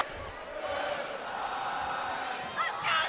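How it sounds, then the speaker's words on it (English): Crowd at a girls' high school basketball game roars steadily, a broad sustained cheer with a swell near the end, filling the gym without distinct voices. "the entire crowd on its feet"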